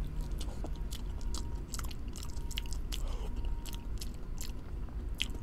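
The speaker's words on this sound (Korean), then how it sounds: "아삭아삭하게 씹히는 거 있지, 지금 들리는 소리." Close, crisp crunchy chewing of durian flesh, with repeated bites and wet crunches in an irregular rhythm and no talking.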